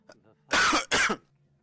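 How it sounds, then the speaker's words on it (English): Someone nearby gives two loud, harsh coughs in quick succession as part of a brief coughing fit, after a faint vocal sound. "you just had your little coughing fit"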